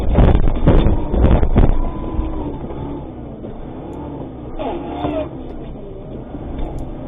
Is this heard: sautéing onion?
no